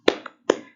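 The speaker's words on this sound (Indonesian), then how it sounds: "yuk kita tepuk semangat dulu ya, biar anak-anak semangat semua" Two sharp claps from children doing a rhythmic spirit clap in an elementary classroom, spaced about half a second apart, fairly close and clear with no talking.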